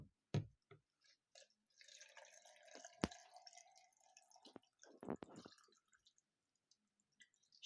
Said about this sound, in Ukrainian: Доливаю водичку.